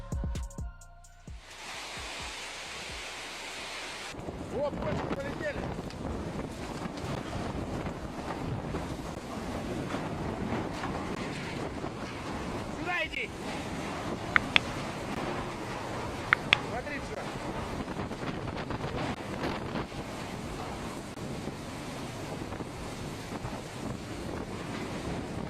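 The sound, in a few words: strong wind during a storm over a Russian village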